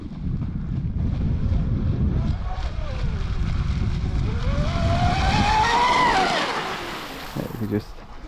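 Pro Boat BlackJack 24 V2 RC boat speeding across water, a high, whining electric motor pitch that sweeps up and down as it races past, mid-distance, with wind buffeting the microphone throughout.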